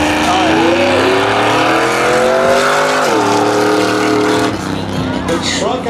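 Truck and SUV launching side by side at a frontstretch street drags event, engines roaring loud and steady with climbing pitch, a gear-change dip partway through, then easing off, with a commentator talking over it.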